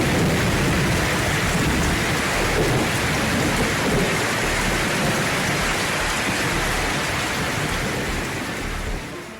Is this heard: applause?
no